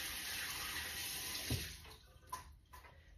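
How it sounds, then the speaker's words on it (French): Running tap water splashes steadily as hands are rinsed under a faucet at a sink, a continuous close hiss with a few brief splashes near the end. "je me passe les mains à l'eau"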